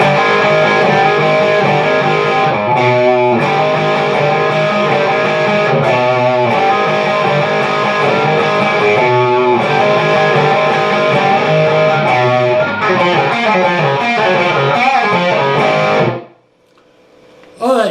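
Distorted electric guitar plays the outro of a song as a dense, sustained, effects-laden passage that runs loud and steady for about sixteen seconds before cutting off abruptly.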